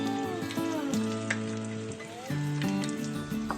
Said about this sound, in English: Then you can gently put the pork skin into the oil.